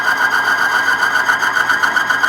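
A warmed-up car engine runs steadily under increased throttle, with a raised, even drone and a slight squeal, loud and close with no talk.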